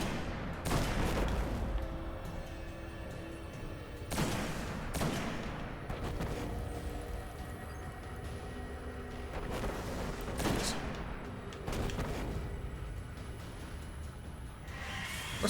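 A Knight enemy firing in Destiny: The Taken King, during a Nightfall strike. Repeated sharp, loud weapon blasts at irregular intervals ring over a constant layer of game noise, with no voices.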